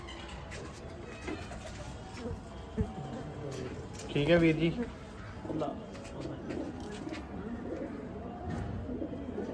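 Pigeons coo on a rooftop loft while a chick begs for grain, with soft cooing in bursts and a louder cluster midway, heard under a man's speech.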